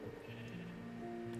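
Sheep bleating in the Minecraft video game, with the animals in a boat beside a llama: a few wavering, nasal bleats over a steady background of game sound.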